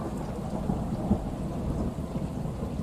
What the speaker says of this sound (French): Écoute la pluie.